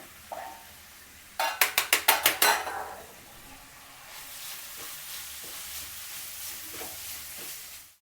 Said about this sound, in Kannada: ಈ ತುರಿನ ಇದಕ್ಕೆ ಹಾಕಿ ಸ್ವಲ್ಪ ಹುರ್ಕೋಬೇಕು